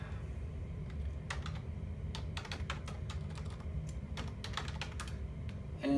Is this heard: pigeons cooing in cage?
no